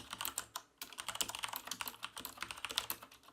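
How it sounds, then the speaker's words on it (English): Fast, continuous typing on a Corsair Vengeance K70 mechanical keyboard with Cherry MX Red switches, producing dense, crisp clacks in quick irregular bursts, close and fairly quiet, with a brief pause near the start. "just take a listen to hear what the Cherry MX Red K70 sounds like"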